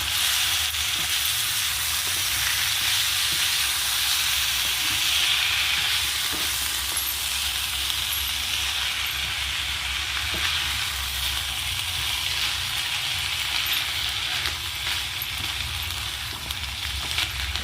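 Onions and salt frying in a pan with sabbasige soppu greens, stirred constantly: a steady, close sizzle fills the whole stretch with faint scrapes of the spoon and no voices.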